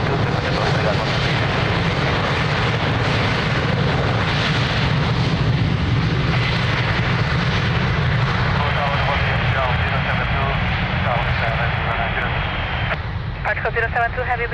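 A fixed-wing airliner takes off from runway 02 at Lisbon Airport, its engines giving a steady, loud, broad roar that holds throughout, with radio voices talking over it.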